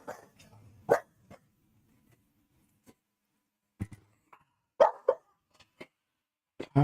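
A dog lets out several short, sharp barks in irregular bursts separated by quiet gaps, close to the microphone and with no talk over them.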